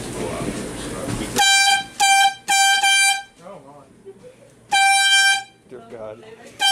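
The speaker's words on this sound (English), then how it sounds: "over here where you hear the horn, this represents like a train coming at you" Loud blaring horn blasts on a dark ride at Waldameer simulate an oncoming train, sounding in several sharp bursts separated by pauses, with people talking in between.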